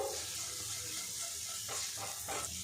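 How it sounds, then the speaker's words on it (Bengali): Curry leaves frying in a pan give a steady, quiet hiss with a few soft stirring swishes toward the end, close with no voices. "বেশ কিছুক্ষণ একটু ভাজা ভাজা করে নিয়েছি কারি পাতাটা কিন্তু বেশ ভাজা ভাজা হয়ে গেছে"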